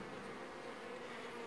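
Honeybees buzz steadily at an open beehive while a beekeeper checks whether the colony has accepted a new queen; a dense, continuous swarm drone fills the whole moment at close range.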